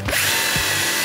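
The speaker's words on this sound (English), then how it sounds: "So we can drill two holes this time." Power drill boring into pallet wood while a raised garden bed is built, a loud continuous whine with a brief spin-up at the start and a second bite partway through, close and alone.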